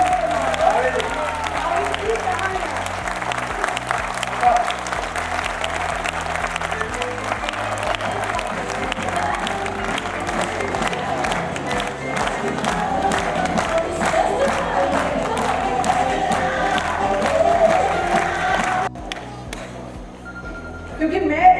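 Audience applause and cheering for a guest at a birthday celebration honoring Mrs Vandana Luthra, a steady crowd roar with clapping lasting throughout, briefly dipping near the end, with voices mixed in.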